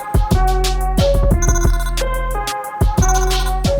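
A telephone ringtone plays loud and close, a bright repeating melodic pattern of tones with sharp note onsets, cycling about three times with no voices.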